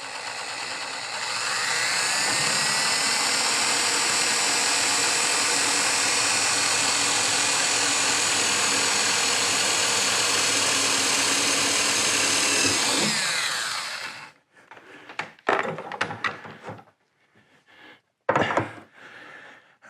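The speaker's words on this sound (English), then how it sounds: "let's get our 1/8" pilot hole drilled on that one." A power drill bores a 1/8 inch pilot hole during a hood lift kit installation, a loud, continuous whine for about twelve seconds that then cuts off, followed by a few short clicks and handling knocks.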